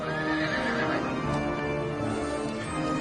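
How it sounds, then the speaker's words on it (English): Horses neigh and whinny in loud, repeated calls over a steady rhythm of galloping hoofbeats, the herd sounding close and continuous with no talk. "Horses running through my house."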